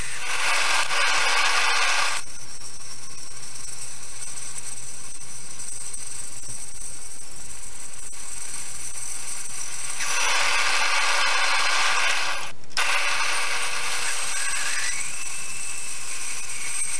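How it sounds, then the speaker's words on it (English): A bandsaw runs loud and steady while cutting a wooden bottle opener blank, the cutting whine rising in two long stretches over the constant motor drone, heard alone and close. "Now to the bandsaw."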